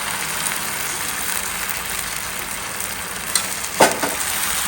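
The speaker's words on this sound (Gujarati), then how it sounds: "હવે આ બેટર અંદર જઈ રહ્યું છે તેલમાં." Handvo batter in hot oil gives off a loud, dense, steady frying hiss close up, with a couple of brief knocks near the end as it is turned; no one speaks.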